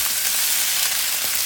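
Meat browning in a pan for a stew, hissing in a loud, steady, close-up sizzle with no pauses.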